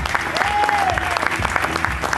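Festival crowd at the Gentse Feesten finale clapping for a performer named Daniela: continuous loud applause blended with music and a voice speaking over it, steady throughout.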